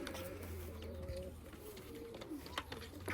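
A tumbler pigeon coos softly nearby, a few low rolling calls repeated against a faint steady background hum.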